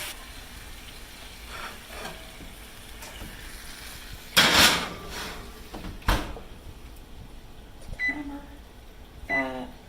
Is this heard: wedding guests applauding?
no